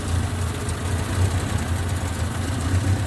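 A 1964 Ford Capri coupe engine running at idle, a steady low throbbing hum with a faint even pulse, close and fairly loud, unbroken for a few seconds with no talk.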